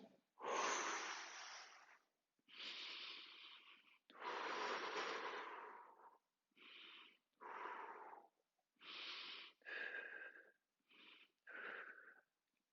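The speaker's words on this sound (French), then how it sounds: "Encore 5 respirations." Slow deep breaths during a gentle stretching exercise, about nine separate close, quiet inhalations and exhalations with breathy, slightly wheezy airflow and short silent pauses between them.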